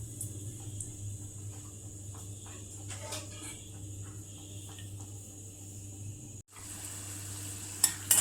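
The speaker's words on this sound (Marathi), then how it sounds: "तर शेंगदाणे भाजले" Peanuts roasting in a pan for a leftover chapati breakfast: a steady, soft sizzle with light scraping and stirring throughout, a brief drop near the end, then a few sharper clinks.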